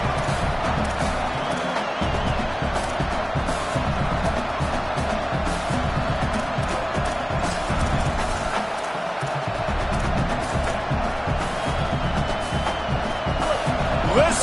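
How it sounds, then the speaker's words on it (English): Large stadium crowd roaring at a college football game, a sustained loud cheer filling the space as the home fans try to help their defense, with a commentator talking over it. "Listen to this crowd just shaking the girders of this place trying to help their defense"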